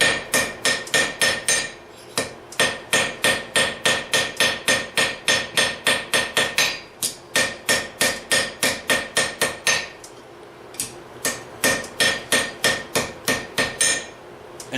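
A blacksmith's hammer strikes hot iron on an anvil while forging hooks, ringing out in fast, even bursts of sharp metallic blows separated by short pauses.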